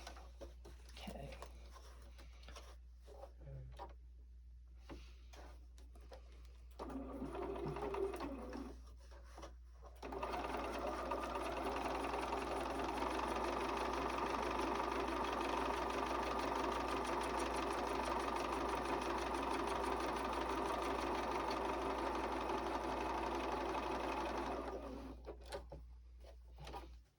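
A sewing machine topstitches a seam on a fabric Christmas pouch, its motor whirring in short starts before settling into a long, steady, loud run of rapid needle chatter, then stopping.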